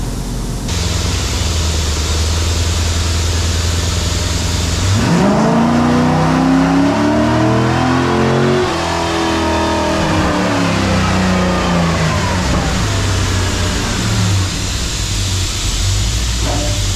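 A Chevrolet Corvette engine runs on a dyno, idling and then sweeping up hard through the revs into a loud, sustained roar before dropping back to idle, with no voices.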